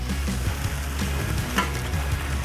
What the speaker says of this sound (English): that sizzle is just divine